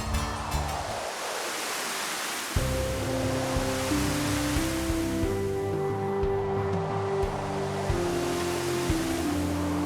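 Ocean waves wash and roar at the seashore in a Hindi animated Ramayan film, a dense, continuous surf hiss that carries on beneath sustained musical tones that enter partway through.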